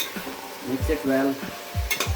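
Onions with ginger garlic paste stirred in a frying pan over high heat for mutton kadai, with a loud close sizzle and a spatula scraping and knocking against the pan in a few strokes.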